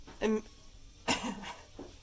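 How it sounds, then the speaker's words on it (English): A couple of brief, rough coughs with short gaps between them, close to the mic, followed by quieter throat noises. "Sorry, my cough is getting me, my tickly throat."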